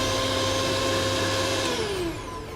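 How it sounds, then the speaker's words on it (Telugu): A mixer grinder runs on a portable 1 kW home UPS with a loud, steady, close motor whine, then begins to wind down with a falling pitch near the end. "దీని లోపల ఇంకా మనకి మిక్సీ కూడా వర్క్ అవుతుంది."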